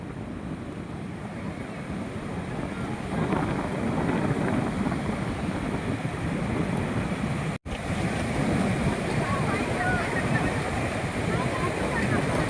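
Sea waves roll onto the sandy shore of Dive Agar beach in a constant, loud roar mixed with heavy wind buffeting the microphone, with one brief dropout midway.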